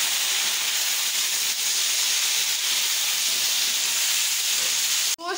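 Beef chunks hit a hot pan of ginger, garlic and chili for a home-cooked beef palao, giving a loud, steady sizzling hiss that fills the whole stretch before cutting off abruptly near the end.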